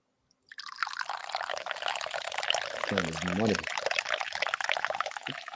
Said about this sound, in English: Now we give it a good pour.